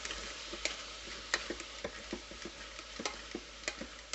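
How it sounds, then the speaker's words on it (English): Food stirred in a pan, with a soft sizzle underneath and scattered clicks and scrapes of a utensil against the pan, fairly quiet and with no voices. "Let's give it a little stir."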